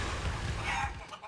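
A game chicken in Guacamelee! 2 gives a short, faint cluck over steady low game background noise, brief and not prominent.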